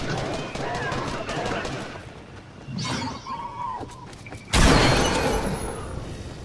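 Burst of gunfire in a Fortnite-style battle royale game as a dinosaur is shot down, a loud broadband volley cutting in sharply near the end after quieter game sounds and mixed effects.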